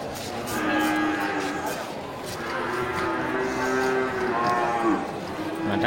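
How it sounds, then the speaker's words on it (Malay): Aceh cattle moo repeatedly at a busy Bireuen livestock market, with several long, drawn-out calls overlapping against steady background crowd noise. "sapi-sapi jenis sapi Aceh. Ya, baik jantan maupun betina ini untuk sapi potong"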